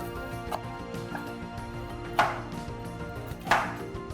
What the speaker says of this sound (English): The onion and the coconut has cooled down. Let's chop it.